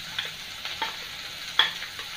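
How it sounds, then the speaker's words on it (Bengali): Chopped onion frying in hot oil with nigella seeds in a pan, a soft sizzle punctuated by a few light stirring scrapes and taps, close and fairly quiet. "কিছুক্ষণ আপনাদের 2 থেকে 3 মিনিট এই পেঁয়াজটাকে আপনাদের ভাজতে হবে ভালো করে।"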